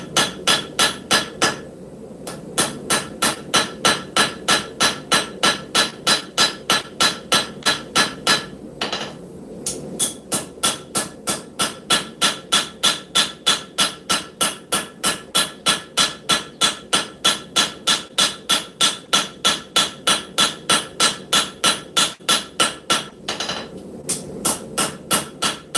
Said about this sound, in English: I'm going to come in with my fat straight peen cross peen, and I'm just going to isolate this heel a little bit